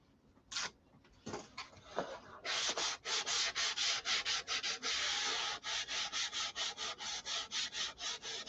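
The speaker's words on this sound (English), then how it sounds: "You end up with 100 little pieces of sandpaper everywhere." A Viper model is sanded by hand with sandpaper, giving scattered scratches at first, then a run of rhythmic back-and-forth rasping strokes, close and steady.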